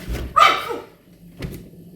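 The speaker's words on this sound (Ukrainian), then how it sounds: "Що ти гавкаєш?" A dog indoors gives one loud, sharp bark close by and then a fainter second bark, with a short thump between them.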